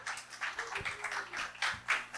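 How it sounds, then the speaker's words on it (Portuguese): Applause from an audience at a workshop awards ceremony, a patchy, uneven burst of claps that swells and ebbs across the moment with faint background noise. "Aplausos para os colegas da Ajuri."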